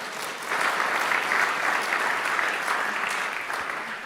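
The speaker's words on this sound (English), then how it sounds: "You can clap for Tim." An audience in a legislative chamber gives steady applause during the Nevada governor's 2023 State of the State address, with many hands clapping in a dense, moderately distant wash that swells after a soft start and tapers slightly at the end.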